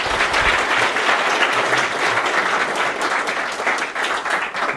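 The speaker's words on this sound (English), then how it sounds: "give him a big applause" Sustained applause from a conference audience fills the room, dense and steady with many hands clapping at once, near and loud throughout.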